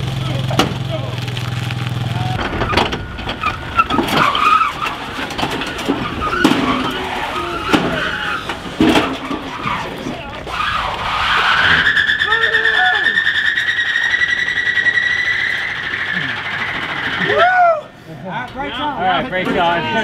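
A car's tires spin and whine while stuck after hard racing in a Euro vs JDM challenge, a loud sustained engine-and-tire drone rising near mid-clip and dropping off, with people talking over it.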